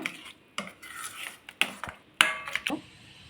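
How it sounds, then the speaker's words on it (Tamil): Spice powders stirred together into a thick paste, a spoon clinking and scraping against a metal bowl in irregular close knocks and taps, with no voices. "இப்போ இது எல்லாத்தையும் ஒன்றா மிக்ஸ் பண்ணிடலாம்"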